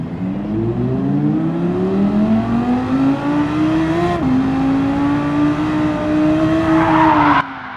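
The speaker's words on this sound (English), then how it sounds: "Now Dord has to rejoin and try not to take anyone out while getting up to speed." Race car in Gran Turismo 7 at Road Atlanta, suffering major damage and dirty tyres, rejoins the track and builds speed, its engine climbing steadily through the gears with a brief tyre scrub, loud and close throughout.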